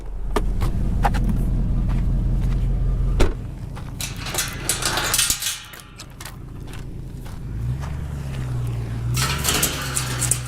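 A vehicle rolls over a cattle guard on a rough country road in off-grid Arizona, giving a loud close rumble for about three seconds before engine noise settles, with clanking rattles throughout.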